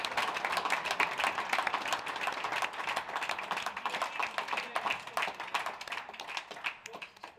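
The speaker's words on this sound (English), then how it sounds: "Please give both our players a huge round of applause." A crowd courtside at a squash final at the Wimbledon Club claps for both finalists, sustained steady applause with rapid overlapping hand claps lasting several seconds at moderate distance.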